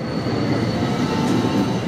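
A MARC commuter train rushes past at speed near Point of Rocks, with a loud steady roar of wheels and rail noise, a faint squeal riding above it, filling the whole moment up close.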